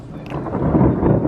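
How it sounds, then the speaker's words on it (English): Thunder rolling during a heavy springtime thunderstorm, a loud, deep rumble that swells and rumbles on for over a second, with rain hissing underneath and no voices. "So many thunderstorms in under 2 minutes."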